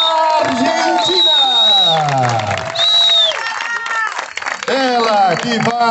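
Audience at an ultramarathon award ceremony in Brazil claps and cheers together in sustained applause, while a crowd voice and whoops ring out and an announcer talks over the noise.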